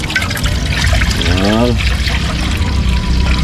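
Water pours into a cooking pot of tilapia soup set over a wood fire, a steady trickling splash running under a man's brief spoken word.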